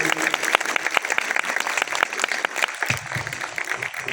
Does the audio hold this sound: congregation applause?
yes